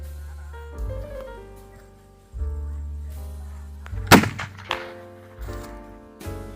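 A homemade calcium carbide monkey gun, a potato-cannon style bird and animal scarer, fires one sharp loud blast partway through, set against a steady tonal background.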